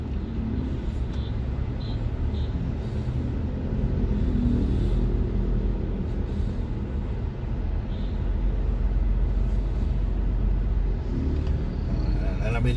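Holiday road traffic on a Christmas drive from Talisay City through Tabunok and Pardo to Cebu City, a steady low rumble of car engines and road noise throughout, with people talking over it.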